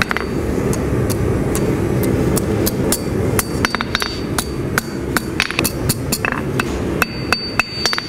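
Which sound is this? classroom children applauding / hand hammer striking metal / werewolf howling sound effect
hand hammer striking metal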